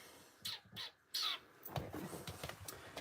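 A person imitates bird calls with the voice, several short squawking, caw-like bursts followed by chirpy vocal sounds, close and fairly loud.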